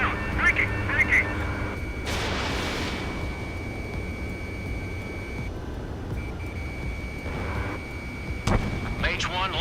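Missiles and gunfire in the combat flight game Ace Combat 7, a dense, continuous roar of jet and weapon noise with sharp bursts near the start and end.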